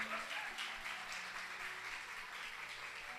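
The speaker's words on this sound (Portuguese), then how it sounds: "Você pode dar uma salva de palmas para eles?" A church congregation applauds a visiting minister and his wife, a faint, distant wash of continuous clapping that holds evenly throughout with no voices over it.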